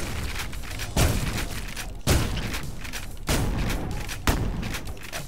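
Four heavy booming shots with explosive blasts from a weapon in the retro shooter Ion Maiden, each a sharp loud impact about a second apart followed by rumbling decay.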